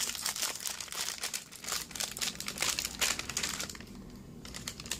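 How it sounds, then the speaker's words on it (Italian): Plastic packaging of strawberry and champagne Tim Tam biscuits crinkling and crackling steadily as it is torn open, close and fairly loud, with no talking. "Quindi adesso direi di andare ad aprire la confezione e di assaggiarli."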